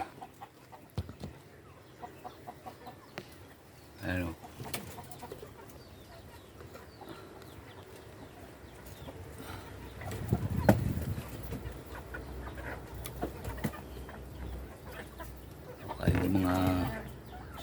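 Hungry chickens cluck intermittently at close range among rustling and scattered movement noises, with a louder burst of activity partway through.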